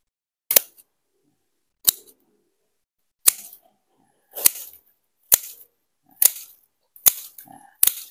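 Sharp snipping cuts from Kapusi K-8618 pruning shears cutting hard wood, eight crisp clicks spaced about a second apart, close up with near silence between them.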